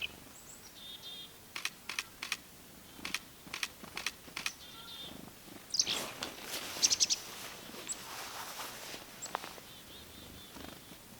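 Faint bird chirps and calls come from a feeder amid quiet clicks and light tapping, with a few sharper high tweets partway through.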